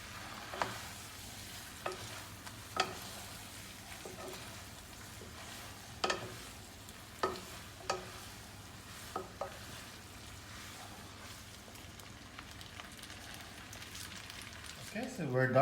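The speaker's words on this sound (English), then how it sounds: "give it a little bit of stir again to mix all these lovely ingredients" Chilli garlic shrimp pasta stirred in a pan, heard as quiet, sparse spoon-and-pan scrapes and clicks at irregular intervals over a faint low sizzle, ending with a louder knock.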